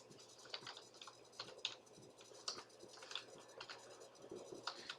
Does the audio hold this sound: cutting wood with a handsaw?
no